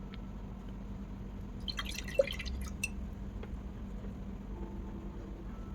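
Faint drips and light splashes of water while Turner Acryl Gouache paint is mixed with added water, a cluster of small plinks in the middle against a quiet background hum.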